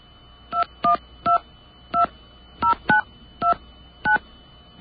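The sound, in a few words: telephone number being dialed, DTMF tones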